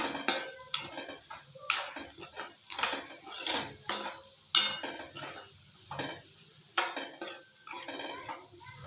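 Onion palya being stirred in a metal pan, a spoon scraping and clinking against the sides in irregular sharp knocks and scrapes, close and fairly quiet, with short pauses between strokes.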